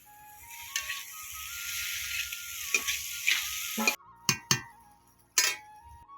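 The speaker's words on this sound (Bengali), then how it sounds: "একটুখানি জল দিয়ে মশলাটা ভাজা ভাজা করবি" Spice paste of chili, cumin and turmeric frying with a little water for a hilsa fish dish, a close sizzle with scraping stirs, then sharp clinks and louder sizzling bursts.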